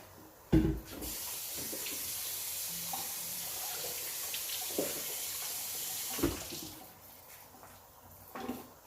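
Cabbage is rinsed under a running kitchen tap: a steady, fairly loud stream of water splashes into a sink for several seconds, broken by a few knocks and handling sounds, with no talking.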